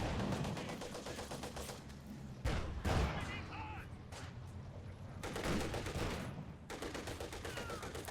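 Machine gun fire crackles in a Company of Heroes 2 match, with bursts of rapid shots and heavier blasts recurring throughout while a commentator talks over the battle.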